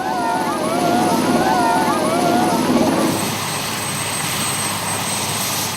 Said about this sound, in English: The big Swiss helicopters are already expected at the landing site, a provisionally converted football pitch.